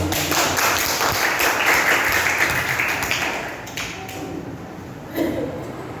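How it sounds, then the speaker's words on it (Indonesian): A classroom of students claps together during a lesson, a loud burst of hand clapping that gradually thins and fades, then one brief final clatter near the end. "Tepuk tangan."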